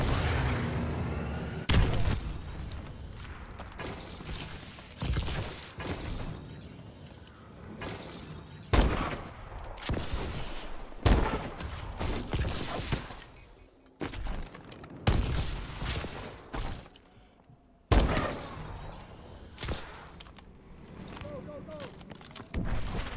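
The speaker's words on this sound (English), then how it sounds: "Friendly missile strikes inbound." Missile strikes in Call of Duty: Advanced Warfare land as a run of heavy booms and crashing blasts, one after another over mixed game noise and gunfire, with voices talking through it.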